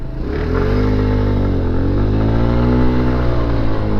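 A motor scooter engine hums steadily and loudly at close range in Washington, DC, its pitch wavering slightly as it rolls past a bus in traffic.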